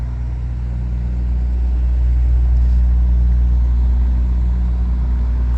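A truck engine idles in a parking lot with a loud, steady, low rumble that holds constant throughout with no voices.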